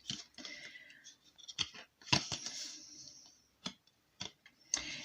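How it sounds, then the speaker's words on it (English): Scissors snip through paper while a bookmark is cut out for a journal, giving a few crisp, close cutting clicks spaced irregularly at a quiet level, with no talking. "Let's try and cut this straight."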